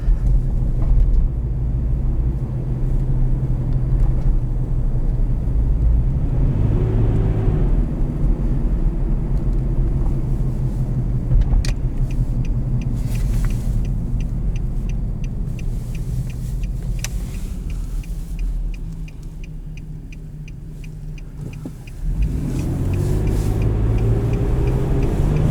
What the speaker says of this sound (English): judging by the whooshing sound of the exhaust,